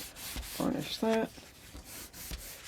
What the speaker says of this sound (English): All right, we've got the rest of those three, so I'll burnish that